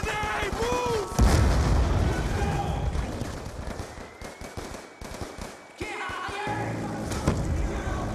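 A grenade goes off in Call of Duty Black Ops 2 combat: a heavy boom early on, then rattling gunfire and further blasts, with game voices shouting in the mix.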